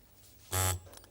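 A contestant's buzzer on a televised quiz show sounds a single loud, steady electronic buzz lasting about a quarter second, set against quiet studio background.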